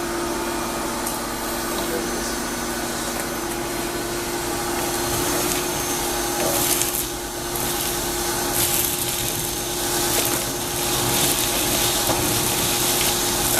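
A shop vac runs continuously with a steady droning whine while suctioning ash out of an Upland 207 pellet stove during monthly cleaning, close and fairly loud, with faint rattles of debris being pulled through the hose.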